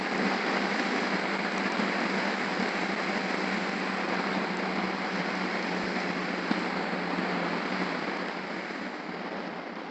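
Heavy rain pours steadily outdoors, a dense, loud, unbroken hiss of falling water that keeps the same level throughout with no pauses or other sounds.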